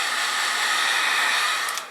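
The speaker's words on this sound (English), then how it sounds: "heat it up just to melt the ends a little bit" A heat gun blows a steady, loud hiss close by, softening the ends of nylon fuel line during a fuel pump replacement on a 1995–2005 Oldsmobile Silhouette, with no one talking.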